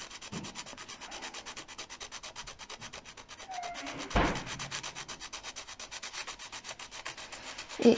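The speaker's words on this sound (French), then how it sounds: "Donc là, on entend le bruit, hein, du gesso." A paintbrush dragged horizontally over a gesso-textured surface gives a soft, close scratchy rubbing in repeated strokes, with one sharper louder scrape midway and a bump at the end.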